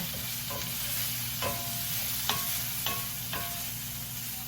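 Carrots and other vegetables frying in a pan for keto beef and veggie bowls, a steady soft sizzle with a low hum beneath and a few scraping stirs at regular intervals.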